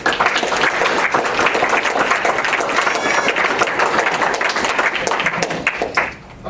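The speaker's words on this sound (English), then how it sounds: "I'd just like to take a moment to a round of applause for everyone here who's on the Dean's List" An audience at a Dean's List reception gives a round of applause, with dense, steady clapping that stays loud and close throughout and drops away briefly at the end.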